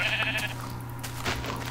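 A sheep in Minecraft gives a single short, clear bleat close by over a steady low background hum, with no talking.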